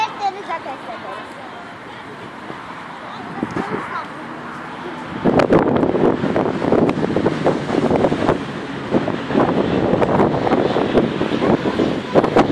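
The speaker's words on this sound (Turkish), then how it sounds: "Çok rüzgar var oğlum." Strong seaside wind buffeting the microphone, a loud continuous rumbling roar that surges and stays heavy through most of the stretch, with voices talking underneath.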